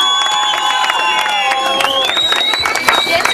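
A crowd at a village sports competition prize-giving bursts into sustained clapping and cheering, a dense steady wash with whistles or shouts rising above it throughout.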